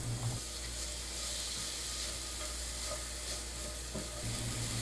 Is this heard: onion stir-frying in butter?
yes